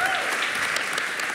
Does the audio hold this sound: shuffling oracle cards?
no